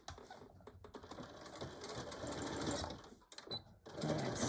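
A sewing machine stitches along a line on a beach or diaper bag, its fairly quiet motor whirring in uneven bursts with brief pauses and clicks, then speeding up again.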